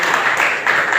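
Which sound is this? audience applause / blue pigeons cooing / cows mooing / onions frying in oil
audience applause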